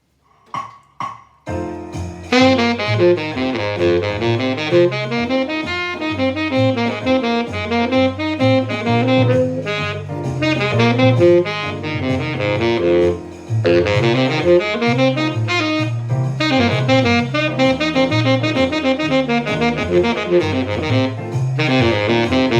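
A saxophone plays a continuous, busy, awkwardly phrased jazz run of notes alone and up close, with a few short opening blips before the steady line begins.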